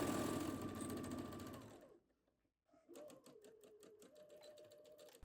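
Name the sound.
sewing machine sewing a seam of a dress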